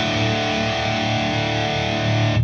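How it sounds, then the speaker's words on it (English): Distorted electric guitar through a tube amp and a Two Notes Captor X with a basement room simulation, a sustained chord that rings steadily, close and loud, with no talking. "Let's have a listen to what a basement might sound like."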